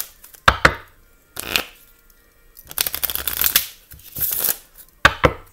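A deck of cards being shuffled by hand, several separate bursts of riffling and flicking at close range with quiet pauses between them.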